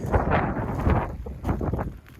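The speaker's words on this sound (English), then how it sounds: "today we actually have a small storm here in Sweden" Loud, gusty wind from a small storm in Sweden buffets the microphone outdoors in irregular surges, with deep rumbling bursts and no voices.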